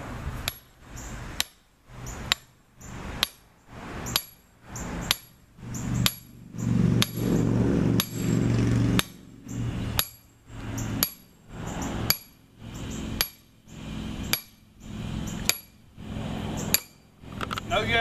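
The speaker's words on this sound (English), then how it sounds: "finish this up with your sledge, just to go ahead and get the drive all the way in" A sledgehammer drives a portable anchor picket into the ground with a long series of steady, regular metallic strikes, close and fairly loud, with a brief stretch of rougher noise in the middle.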